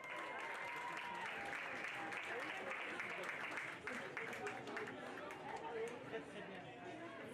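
A crowd applauds steadily at a youth pony show-jumping team event, with dense clapping that eases slightly toward the end, mixed with murmuring chatter and voices in the background.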